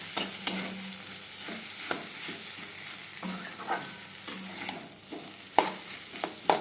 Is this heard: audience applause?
no